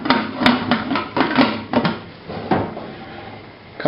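A metal lid is set onto a cooking pot of potatoes and water, giving a run of close clanks and knocks with uneven spacing, loudest early on and fading to quieter taps.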